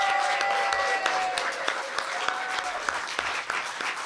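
An audience applauds a musician at an intimate Soundpost Sessions concert, a steady patter of hand claps with sharper individual claps standing out and faint voices mixed in.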